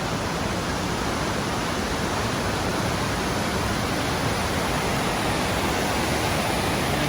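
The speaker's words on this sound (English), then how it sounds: "Made it to the base of Cascadas del Estrecho. Really cool waterfall." Cascadas del Estrecho waterfall in Spain's Ordesa Valley, heard from its base: a steady, loud, unbroken roar of falling water filling the whole soundscape, with no voices.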